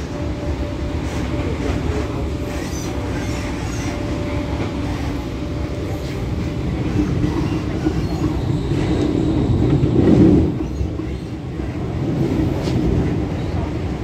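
An MTR K-Train metro on the Tung Chung line in Hong Kong rumbles steadily along the tracks with a low continuous roar, swelling briefly louder midway, with faint rattling and no voices.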